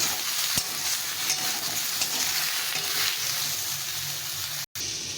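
Ridge gourd and potato pieces fry with salt and turmeric in a hot pan, a steady close sizzle running the whole time with occasional stirring scrapes and one short break near the end.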